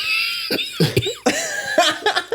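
A few sharp, close coughs in quick bursts, with brief gaps between them and some background voices.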